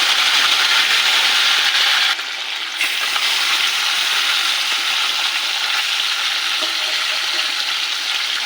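Bata fish frying in hot salted oil for a Bengali fish curry, a loud, continuous sizzle that briefly dips, then resumes steadily, with no talking.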